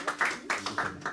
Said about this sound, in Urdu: تالیاں بجائے اگر مزہ آیا تو.